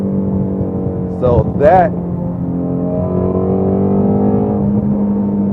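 A Ford Mustang GT350 engine holds a steady, loud high-RPM drone in third gear at around 5,000–6,000 RPM, a continuous tonal roar heard from inside the car while someone speaks briefly over it.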